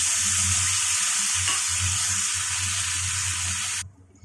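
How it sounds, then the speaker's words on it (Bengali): Potatoes fry in hot oil with a loud, steady close-up sizzle and hiss that carries on evenly and then stops abruptly near the end. "এখানে আলুগুলো একটু আমি ভেজে নিচ্ছি"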